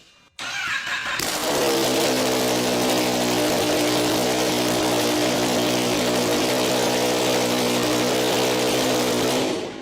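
A Kawasaki ZX-10R motorcycle engine, freshly rebuilt, starts up and settles into a steady, loud, rumbling idle that runs continuously and close by with no talking.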